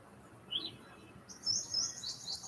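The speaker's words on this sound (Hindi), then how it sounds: "चिड़िया चहचहा रही है," Small birds chirp faintly in a morning garden, giving a few thin, high tweets, one early and then a quick cluster near the end, over quiet, soft background noise.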